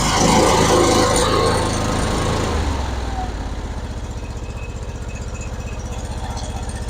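A John Deere lawn mower's small engine cranks over loudly and catches, then settles into a steady, rapid idle with a fast rhythmic putter close to the microphone.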